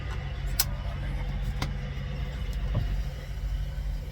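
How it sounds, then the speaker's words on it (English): Trucks idle and roll past in a parking lot at night, a low, steady engine rumble heard from inside a truck cab with a few sharp clicks and knocks. "there's trucks going by to park"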